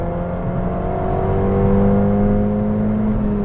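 A Stage 2 tuned Ford Fiesta ST accelerating hard with wheelspin, its engine note climbing steadily in a loud, close, continuous drone with rising harmonics, no voices over it.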